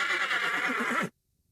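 A spooked horse whinnying in a loud, close, high neigh with a wavering, shaking tail that cuts off abruptly into silence.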